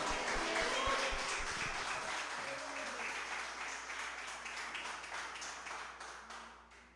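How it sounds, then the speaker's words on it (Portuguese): Church congregation at a worship service with communion clapping together, a fairly faint, even wash of applause that gradually fades out, with a few low thumps near the start. "Glorifique e aplauda o nome do Senhor."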